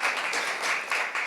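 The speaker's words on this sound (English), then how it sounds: "we welcome claps" An audience claps at a panel discussion about the messages in music. The applause is a dense, steady patter of many hands, fairly close, with no talking over it.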